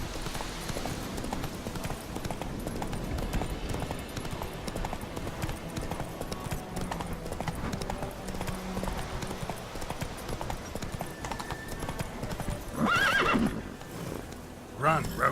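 Roach, a horse in the video game The Witcher 3, gallops with continuous rapid clip-clop hoofbeats, then gives a loud whinny near the end.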